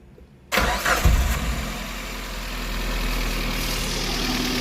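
Suzuki APV engine with a reported misfire cranks and catches after a short silence, then settles into a rough, steady idle heard up close.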